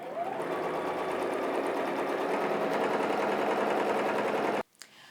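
A domestic sewing machine stitches continuously while machine quilting the letter outlines on a quilt panel, a loud steady motor drone with rapid needle rhythm that cuts off abruptly near the end.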